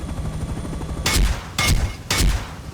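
Three rockets fire in quick succession in the video game Rust, each a loud, close, booming burst about half a second apart.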